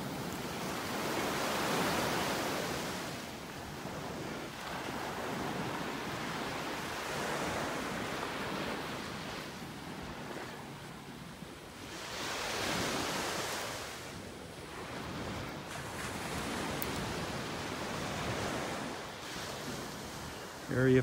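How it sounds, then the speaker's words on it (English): Ocean surf on a white sandy beach in North Naples, Florida, with waves rising and falling in broad slow swells, steady and moderately faint, with wind rustle and a brief bump at the end. "Lots of white sandy beach here in Area 4."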